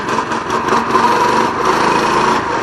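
A motorbike engine revs loud and close during a wheelie, a steady buzzing drone with slight rises and dips, no talking.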